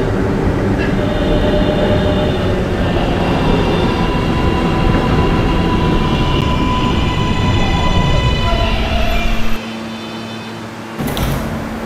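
An R143 local subway train on the R line runs loudly with a dense rumble and tonal motor whine, slowing toward the end before a brief door-like sound, no talking.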